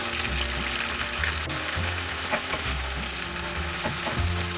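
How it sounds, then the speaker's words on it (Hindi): Tomatoes sautéing in a pan with ginger garlic masala for a Bengali tilapia curry, loud continuous sizzling with intermittent scraping stirs close by, no talk. "टमाटर का साथ हमें 3-4 मिनट सौटे करना है मसाला, जब तक टमाटर थोड़ा सॉफ्ट ना हो जाए तब तक"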